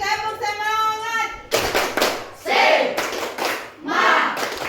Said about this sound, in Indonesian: satu kali lagi, tepuk semangat